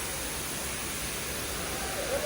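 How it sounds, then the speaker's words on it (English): An indoor waterfall in the airside terminal of Hamad airport gives a steady, even wash of falling water, continuous and fairly loud throughout with no break. "there you are, look, even a waterfall."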